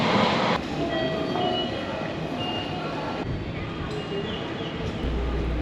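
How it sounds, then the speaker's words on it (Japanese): A commuter train sits at a Tokyo station after passengers get off, giving a steady, fairly loud rumble with a hum, some faint chirping noises, and a low thump near the end. "そして、電車から降車いたしました。"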